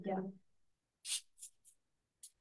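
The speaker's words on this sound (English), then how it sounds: "And so you'll just take your spray." Cooking spray is sprayed onto a small heart-shaped waffle iron in several short hissing bursts, just after a brief bit of talking.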